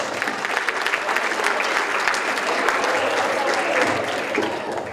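Sustained, enthusiastic applause from a large crowd at a wedding reception, dense clapping that holds steady for several seconds.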